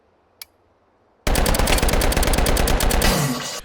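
A fully automatic Glock fitted with a switch fires in a video game gun simulator, a loud unbroken burst of rapid shots lasting over two seconds after a brief faint click and near silence.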